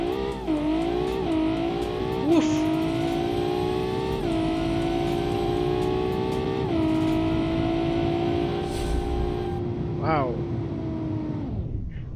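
An 800 hp supercharged drag car on nitrous runs a quarter mile, engine roaring loud and close through rising gear pulls with shifts, under brief excited remarks.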